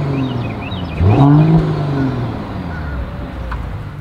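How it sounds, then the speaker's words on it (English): A 2023 Mercedes-Benz E450 Coupe engine revs up sharply once, its exhaust note climbing then settling into a loud, rumbling idle close by. "here is that exhaust clip"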